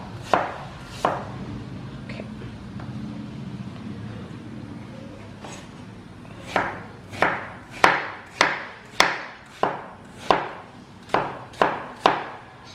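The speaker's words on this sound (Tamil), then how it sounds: "ஸோ இந்த மாதிரி 3 ஆப்பிளையும் கட் பண்ணிடுறேன்." Apples are cut with a knife on a board, a few sparse chops at first, then a quick run of about a dozen crisp, evenly spaced strikes close by.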